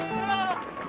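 A goat gives one close, wavering bleat, loud and nasal, filling the short moment on its own.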